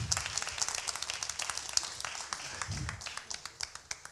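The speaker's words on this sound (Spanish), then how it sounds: "Un aplauso para él." Applause from the audience at a 2018 entrepreneurship pitch event in Antofagasta, heard as sparse, fairly quiet clapping that thins out over a few seconds with a faint voice underneath.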